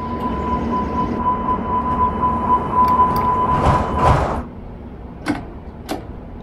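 A Hamburg U-Bahn train in the game Train Simulator Classic runs with a steady rumble and a sustained tonal whine, which cuts off; a few sharp clunks and clicks follow, with no talking.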